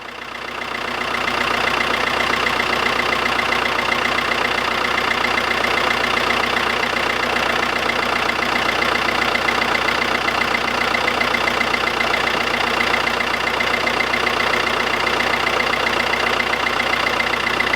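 A van's engine idles steadily after being jump-started with a GREPRO jump starter power pack, a loud, even close-up drone with a faint rhythmic knock and no voices.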